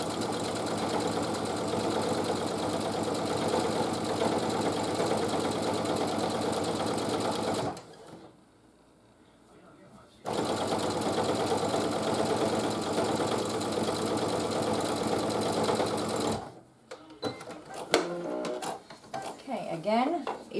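A sewing machine runs in steady, loud bursts while stitching a quilt-as-you-go table runner through fabric and batting, pausing briefly between runs, with a few clinks and handling sounds near the end.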